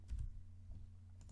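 A password is typed on a computer keyboard, a few faint soft key clicks at the start and end over a quiet background hum, with no talking.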